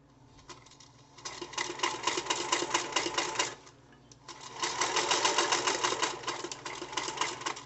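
A vintage 1955 Singer Featherweight sewing machine runs on an old foot pedal, its needle clattering in two steady bursts separated by a brief pause, loud and close with no talk.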